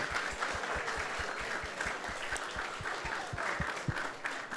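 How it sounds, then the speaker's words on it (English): Gathered listeners at a Krishna Katha event give sustained applause, a quiet continuous patter with a few distinct claps standing out in a loose rhythm. "So let's give a big round of applause to everyone who has joined us here."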